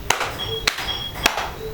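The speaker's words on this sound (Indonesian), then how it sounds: "Tepuk satu, tepuk dua." Hand claps in a classroom microteaching lesson: three sharp, close claps evenly spaced about half a second apart, with a quiet room behind them.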